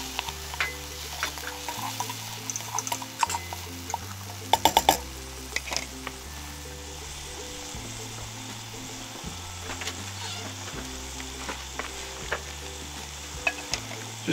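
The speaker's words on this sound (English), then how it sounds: "Three teaspoons of crushed garlic. I just find it really simple to use the ready-made stuff. Give that a bit of a mix in." Ready-made crushed garlic sizzles in a pan at a camp cooking setup while being stirred, with steady frying noise, scraping strokes and a few sharp clacks, close and without talking, over a repeating low musical backing.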